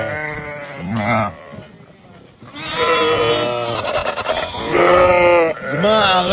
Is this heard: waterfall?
no